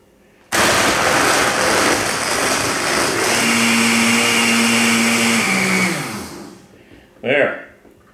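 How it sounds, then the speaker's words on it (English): A blender whirs loudly and steadily for about five seconds as it crushes ice for a mango frozen daiquiri, then winds down, followed by a brief clatter. "And then we're going to put it on the blender."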